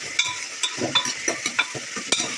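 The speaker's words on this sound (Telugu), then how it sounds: "కొంచెం ఫ్రై అయినాక ఆయిల్ సాల్ట్ వేసిన కొంచెం తొందరగానే ఫ్రై అవుతుంది" Onion and green chili fry in oil with a continuous soft sizzle while a spoon stirs in quick, regular scraping strokes, close up and with no talking.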